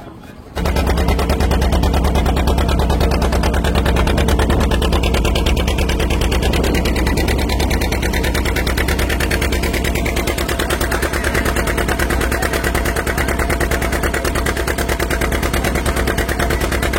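A motor boat's engine chugging loudly and steadily as it ferries motorbikes across a river near Mousuni Island, a rapid continuous putter starting abruptly and running close by throughout.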